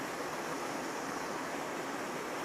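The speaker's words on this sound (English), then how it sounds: "there's a little stream here. You can maybe hear the water coming down" Small stream running down through a village, a constant, even rush of flowing water with no talk over it.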